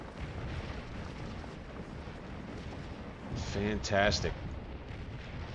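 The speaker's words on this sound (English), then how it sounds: "Artillery fire as far as the eye can see." Artillery fire in a Civil War battle game, the 7 Days Around Richmond mod: distant booms and rumbling barrage under constant battlefield noise, with a voice briefly speaking over it.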